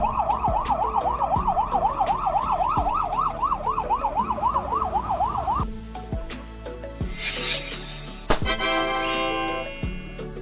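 A loud wailing ambulance siren cycles rapidly up and down, then cuts off, followed by clattering and a brief whooping electronic tone.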